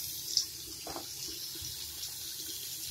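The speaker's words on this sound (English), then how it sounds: "Turn the water off so you can hear me." Steady rush of running tap water pouring into a sink, continuous and close, with no one speaking.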